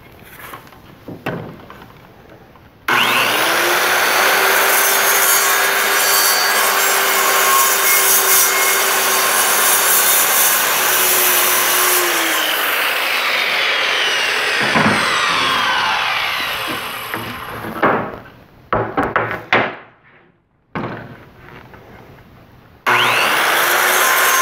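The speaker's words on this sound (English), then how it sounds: "I'm going to use a simple skill saw." A circular skill saw cutting wood for coat rack legs, loud and close: the motor spins up, bites through the board in a long sustained whine for about twelve seconds, then winds down, followed by short bursts and handling noises.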